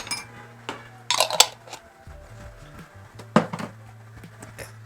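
Mayonnaise being spooned out by the tablespoon for shawarma, with clinks and scrapes of a spoon against a jar or bowl, a couple of louder knocks and quieter scraping in between, and no talking.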